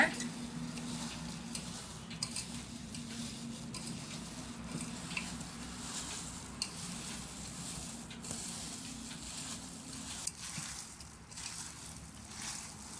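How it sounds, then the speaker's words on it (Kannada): Soya chunks being stirred in a marinade with a little oil and lemon juice, a soft, steady wet scraping and sloshing that stays faint and close throughout, with no talking. "ಸ್ವಲ್ಪ ಎಣ್ಣೆ ಚೆನ್ನಾಗಿ ಮಿಕ್ಸ್ ಮಾಡ್ಕೊಬಿಡೋಣ"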